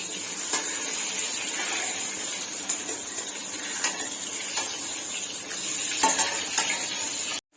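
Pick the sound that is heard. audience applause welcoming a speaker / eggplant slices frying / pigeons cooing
eggplant slices frying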